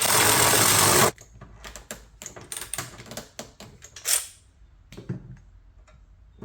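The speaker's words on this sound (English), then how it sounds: "Couple clicks till it lines up so you can get the bolt in, and then cinch it down." A burst of loud rushing noise gives way to a string of quick ratchet clicks as a bolt is tightened on a bumper bracket for an IAG Off Road Capable bumper grill guard, close and crisp, with no talking.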